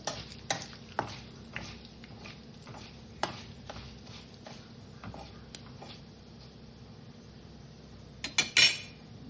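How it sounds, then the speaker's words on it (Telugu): Fenugreek seeds fry in oil for a mango-free chilli and amla pickle, giving a faint, steady sizzle broken by sharp utensil taps and stirring clinks, ending in a louder scrape. "నూనె పెట్టుకుని ఇవి ఇలా వేయించుకుందాం కొంచెం మెంతులు ఎక్కువే వేస్తానండి"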